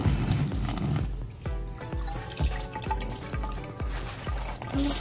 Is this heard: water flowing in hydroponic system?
yes